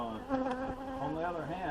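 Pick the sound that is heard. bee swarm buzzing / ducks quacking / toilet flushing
bee swarm buzzing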